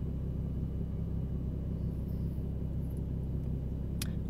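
A car on the drive home from the beach rolls along at low speed, a steady low engine and road rumble from inside the cabin, constant and fairly quiet with no talk.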